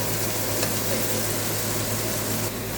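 Green chillies and tomato sautéing in a hot pan with salt, a steady close sizzling hiss that runs unbroken throughout, with no talk.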